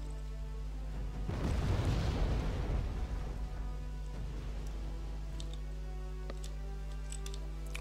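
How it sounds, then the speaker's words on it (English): Artillery rounds fired and exploding in the Wargame Red Dragon video game: a single heavy rumbling blast swells about a second in, rolls for roughly two seconds and then fades back into a steady low background hum. "Let's fire a couple of rounds at these guys."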